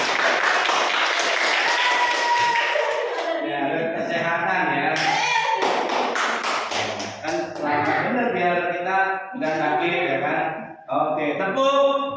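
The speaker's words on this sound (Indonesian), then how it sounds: "Tepuk tangan untuk Mariati." A school audience applauds a presenter at a positive-school-culture event. A burst of clapping opens, then gives way to tonal, music-like sounds and scattered taps.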